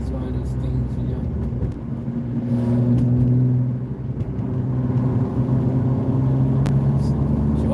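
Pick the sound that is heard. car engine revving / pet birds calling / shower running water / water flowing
car engine revving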